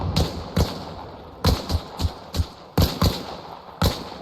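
Rifle gunfire in ARMA Reforger during a Ranger squad exercise cracks out as sharp single shots and quick doubles, irregularly spaced and fairly close, with no talk over them.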